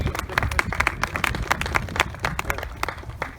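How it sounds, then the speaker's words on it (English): An outdoor Arbor Day crowd claps in a loose, uneven patter of individual hand claps, fairly close, with a faint murmur of voices underneath. "Let's give him a round of applause."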